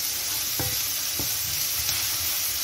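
Fusilli stirred in a frying pan with seasoning, under a steady close sizzle and two or three dull knocks of the spoon against the pan.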